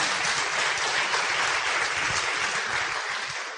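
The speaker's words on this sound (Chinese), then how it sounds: "我们掌声" An audience bursts into steady, full applause in a lecture hall after a talk on family precepts, dense clapping throughout that fades slightly at the end.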